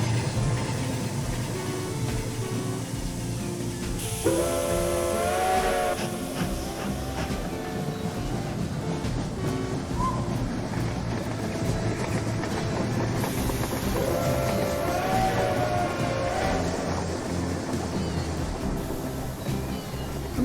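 Steam train whistles in the Rolling Line train set simulator, two long, bright, wavering blasts over a steady rumble and clatter of rolling trains, loud and close, without speech.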